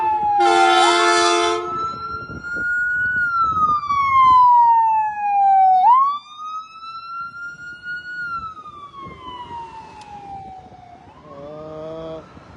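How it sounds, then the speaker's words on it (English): A police siren wails up and down, loud and nearby, with a brief horn blast at the start and traffic noise underneath. "I started to hear the siren right when I stepped on the street"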